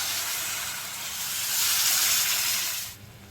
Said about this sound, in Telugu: కారం వేసుకొని కలుపుకున్న తర్వాత ఇందులో ఒక పెద్ద గ్లాస్ వాటర్ పోసుకోవాలి.